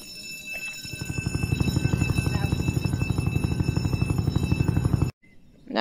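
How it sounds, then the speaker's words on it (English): A military helicopter in the Roblox game Jailbreak spins up to a loud, rapid rotor chop over a high whine, then cuts off abruptly before a brief burst of game noise. "Let's go to the military helicopter."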